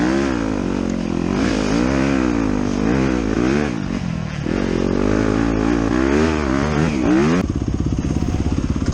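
A dirt bike motorcycle engine in a racing video game drones and revs continuously and loudly, its pitch rising and falling with throttle, with other bikes buzzing close by.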